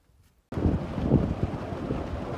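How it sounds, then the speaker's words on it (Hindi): A farm water pump motor runs loud and steady on a farmhouse in Mankera, Bhakkar, with a continuous broadband rumbling roar starting abruptly after a brief quiet moment and holding close up. "मोटर का घमकार है"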